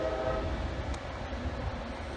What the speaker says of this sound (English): There goes Amtrak 97, the southbound Silver Meteor.